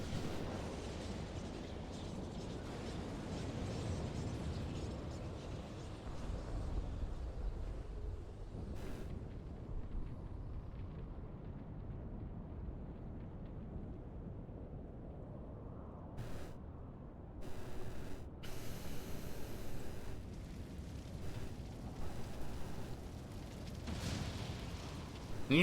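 The Ultima spell from Final Fantasy XIV explodes as a long, low rumbling roar that stays heavy and sustained for many seconds, with sharper crackling bursts near the end.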